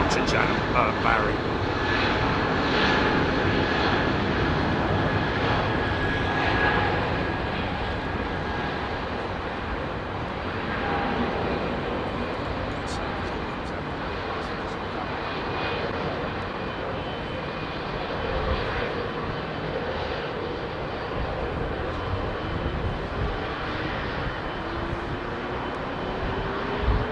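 An aircraft taxis at London Heathrow Airport, its engines a broad, steady roar that holds for the whole stretch with little change, and voices talking faintly underneath.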